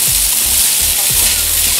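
Boiled pasta sizzles loudly in an oiled frying pan for baked curry spaghetti, a dense, close crackle with a few low scraping thuds as it is stirred and pushed around.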